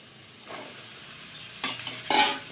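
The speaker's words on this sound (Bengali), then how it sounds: "এবার ভেজে রাখা আলুর টুকরোগুলো দিয়ে দেবো আর এই লাউয়ের টুকরোগুলো এবার দিয়ে দেবো" Fried potato and bottle gourd pieces dropped into a pan in a few quick additions, each bringing a short burst of sizzling and stirring over a faint background hiss.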